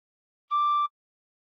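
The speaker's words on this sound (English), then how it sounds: "put fingers 1 to 5 on holes 1 to 5 and hard blow once." A single hard-blown tin whistle note with five holes covered, a steady bright tone held for about half a second, alone and clear.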